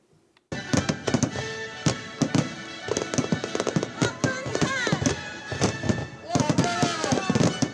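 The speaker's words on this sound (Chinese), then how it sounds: "淡水的渔人码头第一场的烟火秀登场了" A Mid-Autumn holiday fireworks show over the fishing harbour at Tamsui Fisherman's Wharf at night: a rapid series of loud bangs, thumps and crackling bursts following a brief quiet start, with crowd voices faintly underneath.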